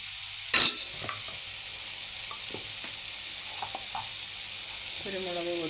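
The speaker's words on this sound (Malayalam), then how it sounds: "1/4 ടീസ്പൂൺ മഞ്ഞൾപ്പൊടി, ഇട്ട് നന്നായിട്ട് ഒന്ന് വഴറ്റാം." Soya chunks sauté with turmeric powder in a hot pan, a steady close hiss of frying with light, scattered taps of a spoon stirring throughout.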